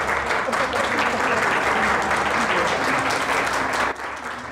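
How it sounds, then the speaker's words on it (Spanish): Sustained audience applause at a lively Catholic gathering, dense and steady clapping from a crowd that carries on for several seconds before easing off slightly near the end. "vamos a recibirlos con un aplauso"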